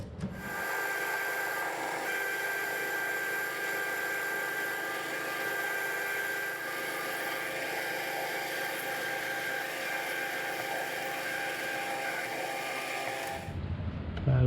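A metal lathe parts off a workpiece a little over 50 mm across, making a steady tonal grinding and whine that holds unchanged for about thirteen seconds, then stops abruptly.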